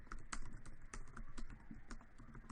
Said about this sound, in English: I'm typing the weather